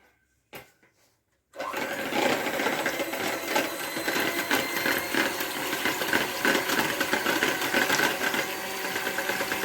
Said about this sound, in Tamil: இப்போ மஞ்சக்கரு வந்து மிக்ஸ் ஆகிற அளவுக்கு பீட் பண்ணி எடுத்துக்கிட்டு சர்க்கரையை வந்து சேர்த்து நல்லா பீட் பண்ணி எடுத்துக்கலாம்.